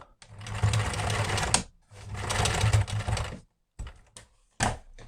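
A sewing machine stitches waxed canvas for a tool roll in two loud, steady runs of rapid mechanical chatter, each roughly a second and a half long, followed by several short clicks and brief bursts of handling noise.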